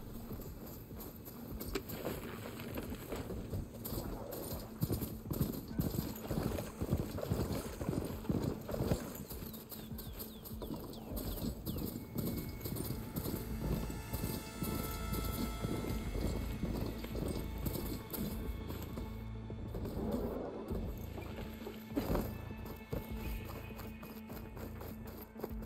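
Hoofbeats of a ridden mount in the video game Horizon Forbidden West, a steady rhythmic clip-clop of galloping hooves running on and on over game ambience, close and moderately loud.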